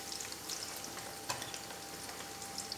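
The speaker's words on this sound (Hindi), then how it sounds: "अब उसी ऑयल में हम प्याज डाल देते हैं।" Onions dropped into hot oil left over from frying okra for a spiced ladyfinger dish sizzle with a soft, continuous crackle and light stirring scrapes, fairly quiet and with no talking.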